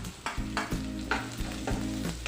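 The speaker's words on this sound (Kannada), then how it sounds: "ಹಾಗೆ ಈರುಳ್ಳಿ ಕೂಡ ಹಾಕಿ ಫ್ರೈ ಮಾಡ್ಕೊತೀನಿ." Onions frying in hot oil with garlic, curry leaves and green chilies for a Karnataka-style okra stir-fry, with steady sizzling and several stirring scrapes of a spoon against the pan, close up and without talk.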